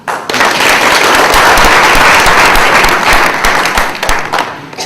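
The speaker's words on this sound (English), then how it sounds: "we can give ourselves a clap" An audience at a science event gives itself a loud, dense round of clapping that rises quickly and holds steady for several seconds before tapering near the end.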